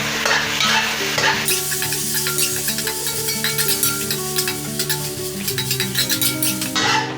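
Garlic and chili stir-frying in hot oil in a wok give a loud, steady sizzle with constant spatula scraping and stirring throughout, close up and without talk.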